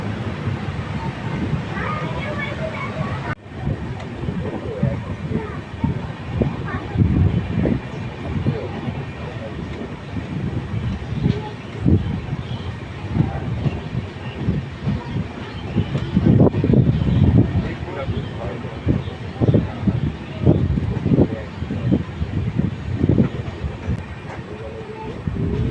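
Farakka Express train rolling into Gangarampur railway station, a steady loud rumble of wheels and carriage noise running throughout, with a voice talking over it.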